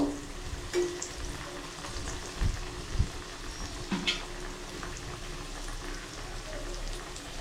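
Village-style jackfruit seed fritters (bora) frying in oil, a quiet, steady crackle and bubbling with occasional soft clatter from the pan.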